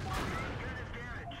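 A tank cannon fires in World of Tanks, a single booming blast that trails off into a rumbling decay with a faint whine.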